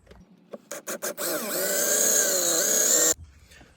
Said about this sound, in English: we're using, I guess, a half-inch drill bit